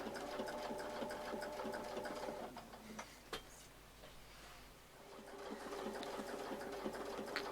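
Sewing machine stitching a quilt in curved line-to-line patterns, a steady fast mechanical whir running almost throughout with a short slowdown midway before picking back up, close and alone.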